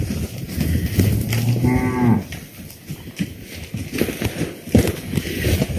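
On a ranch, pregnancy-tested cows give one clear, loud moo partway through, set against outdoor shuffling, footsteps and low background noise.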